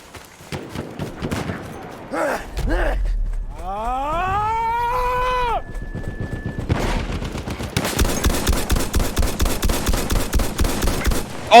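Bursts of rapid gunfire from a gun in the Battlefield 1 video game, loud repeated shots in quick succession, with a rising musical tone and a person talking between the volleys.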